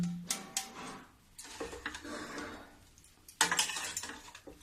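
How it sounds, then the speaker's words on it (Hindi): Roasted ajwain and kalonji stirred into a cauliflower, carrot and turnip pickle, heard as faint, close clinks and scrapes of a spoon against a vessel, in irregular bursts with quiet gaps. "इसको भी मैं अच्छे से मिला दूंगी"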